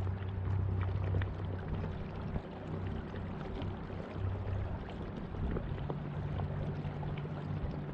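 A Minn Kota Endura C2 30 trolling motor, powered by a 16.8 V lithium-ion battery, runs steadily in its fourth speed setting. It gives a continuous low hum over water noise, with no talking.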